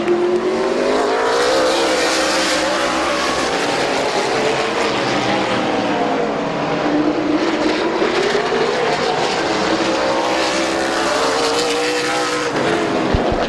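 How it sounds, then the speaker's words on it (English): Race cars roar around the oval at Midvale Speedway, a loud, continuous engine drone with pitch swells as cars pass, close and steady for the whole stretch. "Bud Perry in turn number 3 will take over the race lead."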